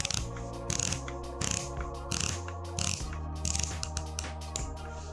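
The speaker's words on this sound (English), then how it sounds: "And it features a really nice 120 clicks. It's really easy to grip, and you can hear it here." The coin-edge bronze bezel of a Rado Captain Cook bronze dive watch turns through its 120 clicks, making fine rapid ratcheting clicks in short bursts, close up and quiet.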